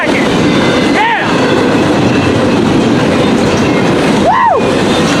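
Norfolk Southern freight train led by NS 8975 rolls past loud and close, with a steady roar of wheels on rail and two brief wheel squeals rising and falling over the din.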